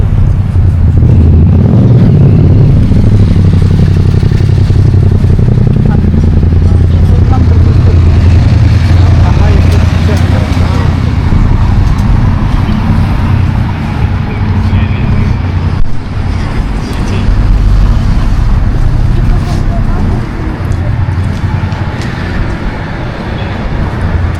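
Steady traffic noise from a congested street, cars and buses idling and rolling close by, with a constant low rumble and some wind buffeting the microphone.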